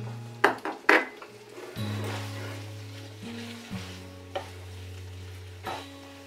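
A pan of sardine spaghetti sizzles as pasta water is poured in, with a few sharp metal clinks of a utensil at the start, then a steady hiss under a low, constant hum.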